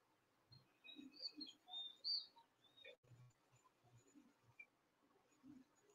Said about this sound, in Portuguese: Agora temos pássaros.